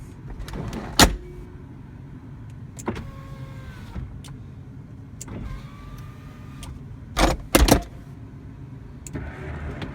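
Electric convertible top of a 2000 Porsche Boxster S folding up, a whirring motor hum with rising whines and several sharp mechanical clunks and latch knocks, close by with no talk.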